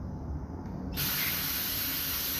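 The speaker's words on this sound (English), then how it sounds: "that brake cleaner will mess up your hands" An aerosol can of brake cleaner sprays onto a Bolens engine, a sudden close, loud steady hiss that starts about a second in and continues to the end.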